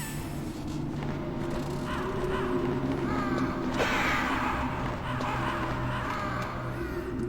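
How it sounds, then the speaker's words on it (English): Crows cawing in the Metal Gear Solid video game, several harsh caws over a steady droning background hum, moderately loud and close, no speech. "Fuck them birds."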